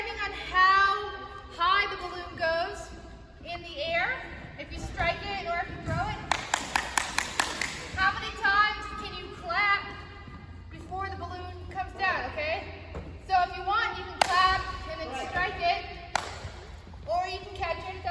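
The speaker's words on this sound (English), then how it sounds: "you can throw the balloon up, clap, and catch" A quick run of about eight sharp hand claps sounds between throwing and catching a balloon, set amid someone talking with other scattered claps.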